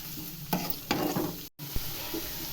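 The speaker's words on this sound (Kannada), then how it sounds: "ಈರುಳ್ಳಿ ಹಾಕ್ತಿದ್ದೀವಿ. ಇವಾಗ ಈರುಳ್ಳಿ ಸ್ವಲ್ಪ ಚೆನ್ನಾಗಿ ಫ್ರೈ ಆಗಬೇಕು." Chopped onions fry in an oil-filled pan with a steady close sizzle, broken by a few louder stirring scrapes and a short cut, no voices.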